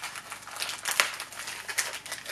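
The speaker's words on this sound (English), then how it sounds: "it's sort of in a sealed plastic bag" A meal replacement bar in a sealed plastic bag crinkles as it is handled, giving soft, uneven crackles with a few sharper rustles, close and fairly quiet.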